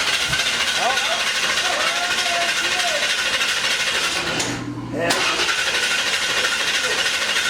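A big-blower supercharged small-block Ford Mustang engine converted to EFI and methanol roars loudly and steadily up close, briefly dipping before surging back to full noise.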